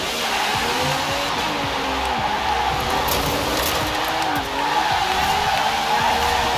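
A 2013 Aston Martin V12 Vantage S AWD drift build in a racing video game revs hard, its engine note rising and falling through gear changes under a steady loud roar, with continuous tire noise beneath.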